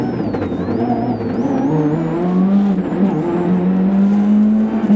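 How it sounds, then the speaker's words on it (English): A WRC rally car engine revs hard and steadily, with popping anti-lag crackles from the exhaust as the throttle lifts, loud and close. "Real crackle off the anti-lag on that car as he comes off the throttle."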